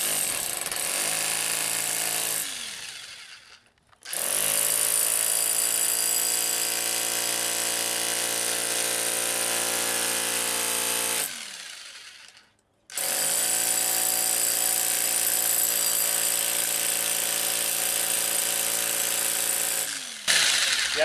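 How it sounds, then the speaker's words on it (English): A pneumatic air chisel hammers into brick in two long, loud, continuous bursts of rapid pounding separated by short pauses, close and harsh with no talking. "I already used my air chisel."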